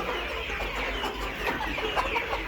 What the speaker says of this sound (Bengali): সবগুলো মুরগি সুস্থ সবল আছে